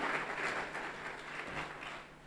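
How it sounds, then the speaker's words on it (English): Steady audience applause during a church presentation, a dense even patter of many hands filling the whole stretch at moderate level, tapering slightly at the end. "Clap for her."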